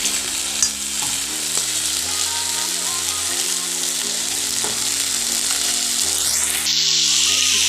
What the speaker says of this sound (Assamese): এতিয়া এইখিনি ভালকৈ অকণমান তেলত ফ্ৰাই কৰি ল'ব